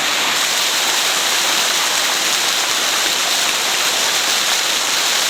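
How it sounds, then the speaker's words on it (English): A small waterfall on the Kokoda Track in Papua New Guinea roars steadily at close range, a dense, even rush of falling water filling every moment, with no voices. "Got a beautiful little waterfall there."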